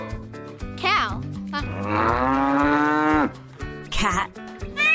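A cow moos once, a long, loud, drawn-out low call held for over a second, set against a bright children's music backing with short chirpy sounds before and after.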